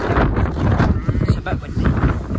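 Wind buffets the microphone outside East End Park football ground, a rough, gusty rumble with people's voices mixed in.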